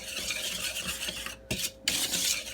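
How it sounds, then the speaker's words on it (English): Sugar and flour are stirred together in a bowl, giving a close, gritty scraping rasp that pauses briefly twice before resuming. "we'll mix the sugar and the flour together"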